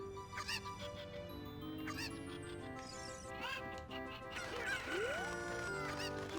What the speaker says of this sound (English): Here go the Super Cuckoos!